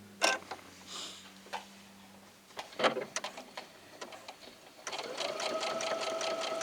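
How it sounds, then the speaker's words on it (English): A home sewing machine runs a zigzag stitch to tack yarn down on a quilt, starting with scattered clicks and short bursts, then settling into a steady, close mechanical whir. "using the zigzag stitch on my machine, I've set it where I can just use a zigzag stitch to"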